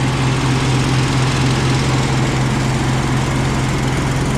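An engine-driven welder runs steadily under heavy load, its alternator maxed out charging batteries, a loud, constant droning hum with no pauses.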